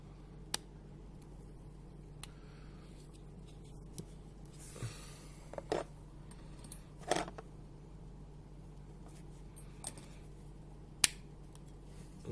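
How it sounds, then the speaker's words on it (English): A plastic T-55 A/AM tank hull part from a Revell 1/72 scale kit snapping into position, heard as a few faint, isolated clicks and ticks spread sparsely over a quiet room background. "That clicking sound is the part falling in its proper position."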